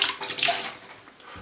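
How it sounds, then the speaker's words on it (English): Water is splashed onto a freshly shaved face at a sink, a brief close wet splash and trickle that fades within a second and a half. "Some water on the face."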